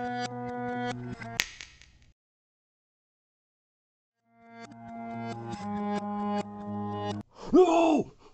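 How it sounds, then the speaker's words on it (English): A single sharp finger snap cuts through synth-style game music, followed by a long silence before the music resumes and ends in a warbling effect. "All I need to do is snap my fingers, and this all goes away."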